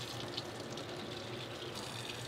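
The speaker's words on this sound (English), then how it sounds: "Let me just go and rinse this off" Water runs steadily as it rinses off a kayak, a quiet, even hiss and gush of spray with a faint splash partway through and no talking.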